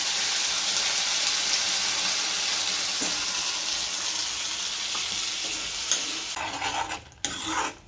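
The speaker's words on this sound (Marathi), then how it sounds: "तर आता मी मसाला ना परतून घेते" Ground tomato masala sautéing in hot oil with curry leaves for an onion bhaji, a steady close sizzle with occasional spoon scrapes against the pan, fading and breaking up near the end.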